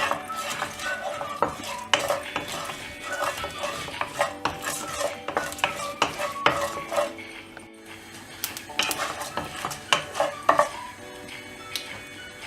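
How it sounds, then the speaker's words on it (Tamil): Dried red chillies frying in oil in a pan, with close, irregular metallic spoon clinks and scrapes over a light sizzle, louder taps scattered throughout. "இப்போது காஞ்ச மிளகா ஆட் பண்ணிவிட்டு இதை எண்ணெயில் ஃப்ரை பண்ணிக்கலாம்."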